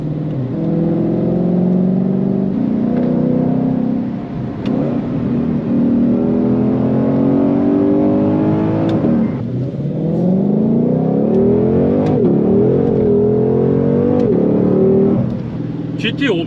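A Ford Mustang Shelby GT500's 5.2-litre supercharged V8 drones loudly from inside the cabin, rising and falling through several revs and gear changes with a deep, throaty tone.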